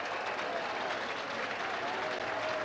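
Football crowd applauding steadily at Leederville Oval during a 1993 West Perth versus Claremont match, a dense, continuous wash of clapping with faint crowd murmur throughout.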